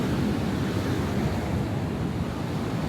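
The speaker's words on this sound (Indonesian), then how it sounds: "Ombak sedahsyat ini." Strong ocean surf pounds the beach at Pangandaran, a continuous loud roar of breaking waves mixed with heavy wind buffeting the microphone, close and unbroken for a few seconds.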